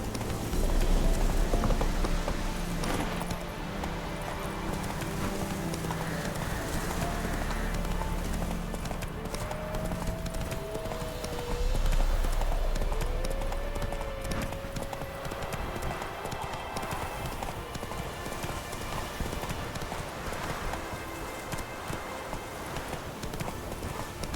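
A horse gallops in The Witcher video game, with rapid, continuous clip-clop hoofbeats close by and steady rain-like background texture. Brief voices and a faint call are heard partway through.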